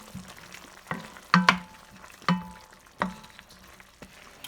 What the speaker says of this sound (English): now I'm going to give it a stir